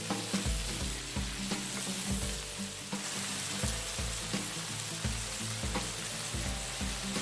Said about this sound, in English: Stir occasionally.